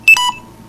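A phone's low-battery warning goes off as a brief electronic signal: two quick high beeps followed by a softer lower tone, clear and close with no talking.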